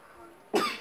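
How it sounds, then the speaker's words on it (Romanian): A single loud, close cough bursts out after a quiet stretch of room noise, from a young gamer between remarks about Minecraft and Fortnite. "mă scuzați că eu tușez"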